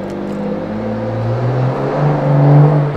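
Truck rolling by close to a house, its deep engine hum rising and falling in pitch and getting louder near the end, with no voices.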